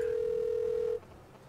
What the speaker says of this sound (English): My partner's getting a phone call from Tay.